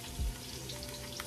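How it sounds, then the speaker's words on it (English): Oil frying in a pan while making a homemade hair mask, a faint continuous sizzle with soft crackles and no voices. "wait for this to finish frying"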